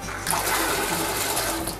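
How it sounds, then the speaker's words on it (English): Rinsed beans poured from a vessel into a pot of cold stock for a French cassoulet, giving a steady close rush of splashing water and tumbling beans that runs unbroken for the whole two seconds. "We're going to pour our beans in there."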